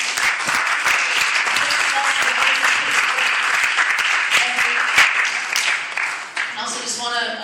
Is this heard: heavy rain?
no